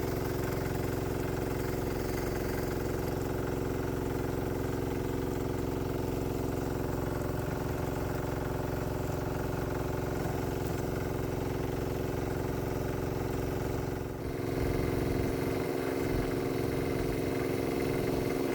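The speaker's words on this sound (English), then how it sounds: "the sound that the engine makes is a lot louder than the exhaust" A small diesel golf cart engine runs at a steady idle, a constant low, throbbing drone louder than its exhaust, shifting slightly near the end.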